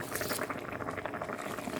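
A pot of Thai pork curry broth bubbles at a steady rolling boil, dense popping and gurgling close by, with no voices.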